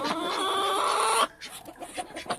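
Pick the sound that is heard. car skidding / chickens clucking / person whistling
chickens clucking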